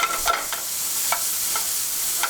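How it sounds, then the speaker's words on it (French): Porcini risotto being stirred gently in a pan, a steady hiss of sizzling broth under a few short scraping strokes of the spoon, close and moderately loud with no voices. "On remue de temps en temps gentiment afin que ça n'accroche pas"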